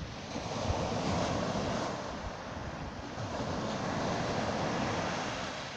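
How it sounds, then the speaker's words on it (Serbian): Ocean waves surging and washing onshore with a light breeze, a steady, full roar of surf that swells and eases gently throughout, close and loud, with no voices. "Uživajte u ovim predivnim talasima i zvucima ovih talasa, kao i po vetarcu"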